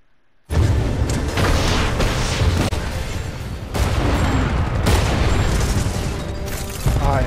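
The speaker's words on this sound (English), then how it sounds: "Cluster missiles." Cluster missiles in Titanfall 2 fire and burst in a dense, continuous barrage of loud booming explosions, with sharper surges of blasts partway through and no let-up.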